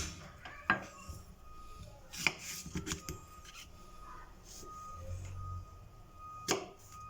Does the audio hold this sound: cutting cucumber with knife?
yes